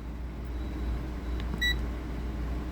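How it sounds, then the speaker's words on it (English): A short, thin electronic beep from a multimeter in continuity mode as its probes touch, sounding once over a low steady hum, brief and clear. "if we touch our probes together, it will give a beep"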